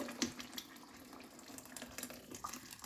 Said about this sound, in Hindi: अब इसमें हम डाल देंगे गर्म पानी।